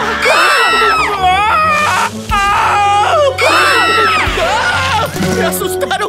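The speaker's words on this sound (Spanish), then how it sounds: "¡Me asustaron con ese grito!" Cartoon characters let out loud, drawn-out screams and frightened wails that rise and fall over about six seconds, close and dense, with several voices overlapping.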